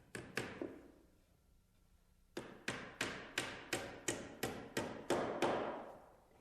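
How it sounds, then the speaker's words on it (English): Two sharp hammer taps on a small nail tacking a stair part to the carriage, a pause, then a steady run of about ten even blows into wood, close and clear. "tack it in place with a small nail"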